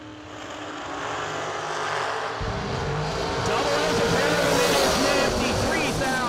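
Dragsters launch and roar away down a drag strip, engine noise building and swelling loudly, while an announcer talks over the racket.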